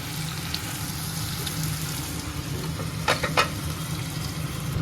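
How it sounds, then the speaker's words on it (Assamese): Potatoes frying in a covered pan for fish curry, a steady low sizzle and crackle throughout, with a couple of brief sharper clatters near the end, close and unbroken by speech. "এইখিনিতে ভালদৰে ভাজিম অকণমান সময়, ঢাকোন দি থ'ম।"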